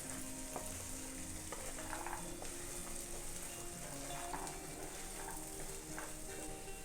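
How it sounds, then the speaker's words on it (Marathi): Mixed vegetables for Bhogi bhaji sizzle and crackle in a pan while being stirred, a continuous fairly quiet frying hiss with occasional soft scraping strokes. "त्या सर्व भाज्या चांगला मिक्स करून घ्यायच्यात।"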